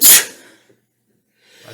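One sharp, loud human sneeze bursts out close up at the start, then fades into near silence before a faint rustle of background noise returns.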